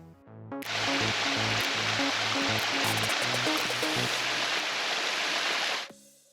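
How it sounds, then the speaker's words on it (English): Loud, dense roar of rushing water from Bridal Veil Falls in Salado Canyon near Alamogordo rises quickly and holds steady for several seconds before dropping away, with a faint musical tone underneath. "we heard rushing water and we knew that we were at the falls"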